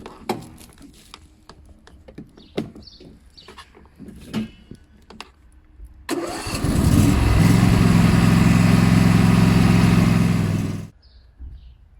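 A Husqvarna TC 238T garden tractor engine cranks and catches after a few seconds of quiet clicks and handling, then runs loud and steady for about five seconds before shutting off.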